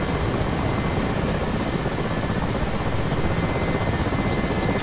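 A Mi-8 helicopter in flight in DCS World, a steady, dense rotor and turbine roar that stays loud and constant throughout, with no voices.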